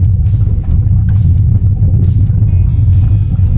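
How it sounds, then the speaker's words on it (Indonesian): Road traffic from inside a car climbing an uphill road while a police patrol car overtakes, a steady low engine rumble throughout with faint whooshing passes. "Belakang ini ada mobil patroli, biarin aja dia nyalip dulu"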